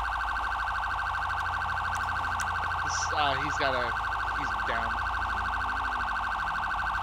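A police car siren sounds continuously as a loud, steady wailing tone through the whole scene in a police role-play game, with brief speech over it.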